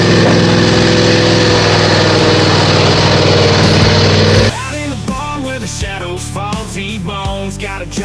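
John Deere Z355 riding lawn mower engine running steadily with a loud, droning hum, then the tone drops and continues under layered music-like sounds.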